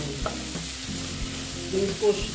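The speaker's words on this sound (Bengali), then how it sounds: "আলুর সঙ্গে এগুলো আবার ভালো মতন ভেজে নেব," Soybean chunks and egg frying with potatoes in a hot pan: a continuous close sizzle with soft stirring thumps and scrapes, no voices over it.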